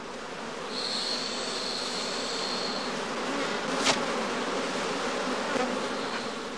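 Honey bees buzz around straw skeps set out in heather, a steady dense hum with individual bees droning close past, no voices.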